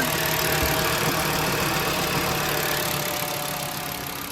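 A 2009 VW Beetle's 2.5L five-cylinder engine idles after new spark plugs and coils are fitted, a steady close mechanical hum with a faint tick and even drone that eases slightly toward the end, with no talking.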